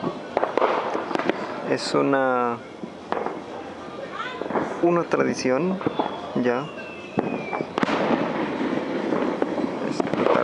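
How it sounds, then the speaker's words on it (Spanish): Repeated New Year's Eve fireworks bursts and crackling pops outdoors in Mexico, some loud and near, with a whistling rocket, while a person talks over the noise. "explotar cohetes en fin de año, recibiendo el año nuevo."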